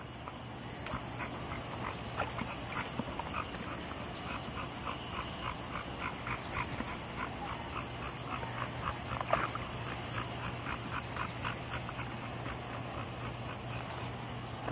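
Augie the dog panting and whimpering softly while standing in a pool, a steady run of short rhythmic breaths over a constant low hum, close and moderately quiet with no talk.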